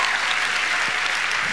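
Church event audience giving a woman a hand as she comes up on stage, loud sustained clapping from many people with one low thud partway through.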